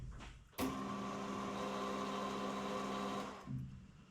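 A tap cutting a thread into a thread insert, heard as a steady, fairly loud motorized whir with a tonal hum that starts abruptly, holds for about three seconds and then cuts off, with no talking.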